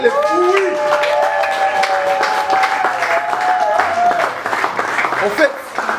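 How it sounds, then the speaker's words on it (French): Guests at a 25th wedding anniversary celebration clap for the couple's daughters, the applause running beneath someone talking and background music. "on doit applaudir pour vous, puisque vous êtes les fruits"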